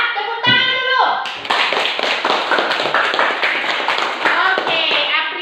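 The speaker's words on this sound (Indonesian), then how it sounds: "semua tepuk tangan dulu" Schoolchildren in a classroom clap hands together on the teacher's cue, a busy burst of overlapping claps following a brief spoken call, with children's voices mixed in.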